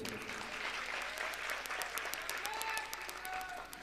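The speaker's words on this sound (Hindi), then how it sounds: "पहले एक बार आप तालियां बजाएं," Crowd at a political rally in India claps, a continuous wash of many hands with a few sharper individual claps standing out, faint voices and crowd murmur mixed underneath.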